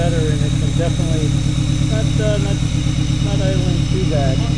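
A 2013 Hyundai Veloster engine idles steadily after a misfire repair, a close, loud, even low rumble with a fine rhythmic pulse and light clatter, while someone talks over it intermittently.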